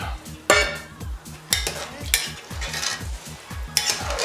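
A spoon stirs rice and water in a pot, giving repeated scraping and clinking strokes with wet swishes, close and fairly loud, over a steady rhythmic backing beat.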